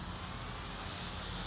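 Walkera Master CP flybarless RC helicopter rotor spooling up, a steady high-pitched whine that climbs slightly in pitch and loudness, heard alone and close with no talk.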